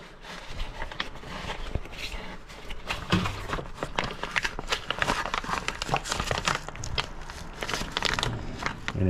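A plastic bag of AMSOIL gear oil is squeezed to fill the differential on a 2007 Arctic Cat 700 Diesel, giving a continuous close crinkling and crackling of plastic with no talk.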